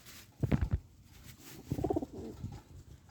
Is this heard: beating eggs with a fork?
no